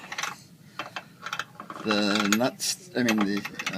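A socket wrench tightens tow hitch bolts on a 2014 Mazda6, with rapid ratchet clicks in short bursts and a person talking between and over them.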